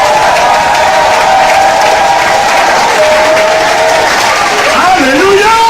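A church congregation applauds and cheers in a hall, a dense continuous wash of clapping and voices at full loudness, with a sustained sung or shouted tone and a preacher's voice rising over it.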